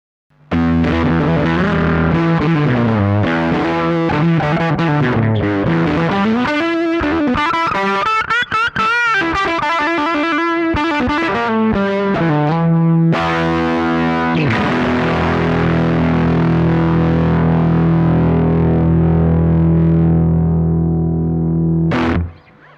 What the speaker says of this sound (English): So here's what the fuzz face sounds like.